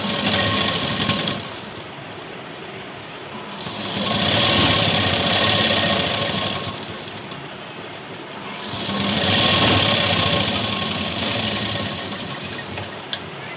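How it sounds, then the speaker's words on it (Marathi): Sewing machine stitching close along the folded edge of blouse fabric, a continuous close mechanical whir that swells louder in two long runs and eases between them. "इथून एकदम कडेला एक टिप द्यायची"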